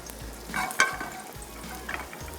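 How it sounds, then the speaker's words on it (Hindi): Par-boiled potatoes and aubergine fry in hot oil in a well-heated pan. A soft, steady sizzle plays alone, with a few brief stirring scrapes. "इस पैन को खूब अच्छे से गर्म करके हमने जो आलू और बैंगन है उनको कैरेमलाइज्ड करना है"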